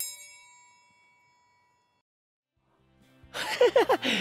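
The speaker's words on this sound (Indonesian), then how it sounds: "Bagaimana kalau kumainkan triangle-nya?" A metal triangle struck once, its bright ringing tone decaying slowly into silence, followed a few seconds later by a voice with an animated, laughing tone.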